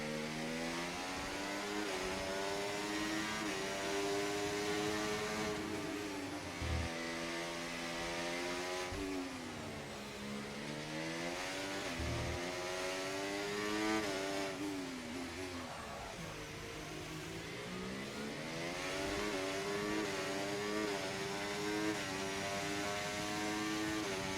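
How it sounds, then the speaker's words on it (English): Ferrari race cars in a racing video game, engines whining and shifting pitch as they rev and accelerate, sustained harmonic drone with rising and falling sweeps, moderately loud and unbroken. "Two Ferraris chasing me down."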